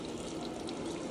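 An ultrasonic drill bores into a workpiece under running water, making a steady, soft watery hiss with a faint mechanical whine underneath.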